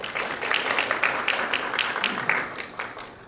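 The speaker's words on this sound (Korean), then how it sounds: "그러면 좋은 발표해 주신 서기민 센터장님께 다시 한번 박수 부탁드립니다." An audience applauding at an academic conference session, a dense patter of many hands clapping together at moderate volume throughout.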